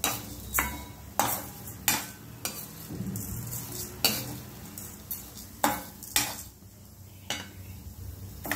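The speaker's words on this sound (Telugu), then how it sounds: "ఇదిగోండి కందిపప్పు వేయించుకుంటున్నాము చూడండి" Toor dal roasts dry in a pan, a spatula scraping and knocking against the metal in a regular rhythm of sharp clacks over a faint sizzle; no voices.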